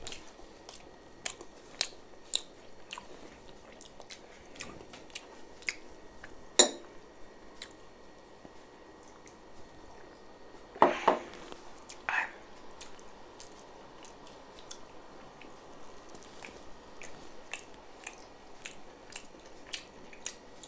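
Close, loud chewing and crunching while eating spicy beef shawarma and fries, with irregular wet bites and occasional clinks of cutlery or dishes, no talking.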